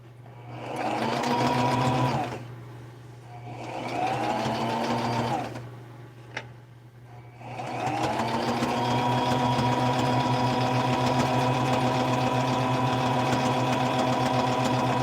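A sewing machine stitches fabric for a doll pattern in close, loud bursts: two short runs separated by pauses, then one long continuous run of steady mechanical whirring.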